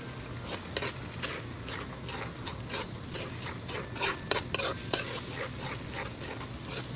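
Finely minced sauce ingredients for a Cajun seafood boil sizzle and fry in a pan, a steady close crackle with occasional spoon scrapes and clicks on top, with no voices.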